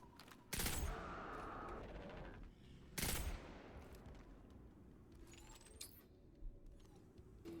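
Pulse rifle fire in Destiny 2, during a range test at distance: two loud bursts of rapid shots around the half-second and three-second marks, each trailing into a long echoing tail, followed by fainter scattered pops.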